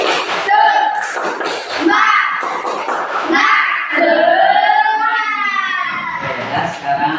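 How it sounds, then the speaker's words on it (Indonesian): Children chant the rhythmic 'tepuk semangat' routine in unison, their voices loud and near, broken up by sharp claps and slaps that keep the beat. "Tepuk tangan, tepuk semangat."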